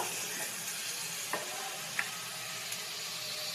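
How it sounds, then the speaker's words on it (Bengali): Prawns sizzle in hot oil with pumpkin in a village-style pan, a soft continuous frying hiss with a few light scrapes and taps as they are stirred, close and quiet. "এবার দিয়ে দেব মাছটা, চিংড়ি মাছ। ভালো করে একবার মিক্স করে নেব।"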